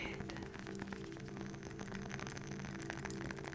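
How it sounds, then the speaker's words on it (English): Rain falling outside a quiet room with a crackling wooden-wick candle, a soft dense patter of drops with faint crackles and a low hum throughout. "there's also rain falling outside"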